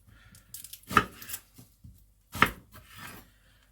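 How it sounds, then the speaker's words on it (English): A knife cuts onions into big chunks on a board with two sharp, close chops and softer scraping between them. No talking. "This is the way I always, when I do this, cut the onions."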